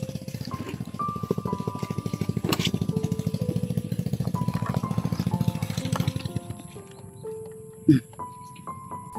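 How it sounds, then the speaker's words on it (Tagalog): A motorcycle engine idles and runs with a rapid, steady put-put pulse close by, and voices talk over it before it eases near the end. "Yes, yung motor."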